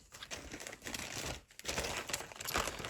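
Pack of paper stickers being rustled and flipped through, crinkly crackling and rustling in uneven bursts, close and fairly quiet, with no talking.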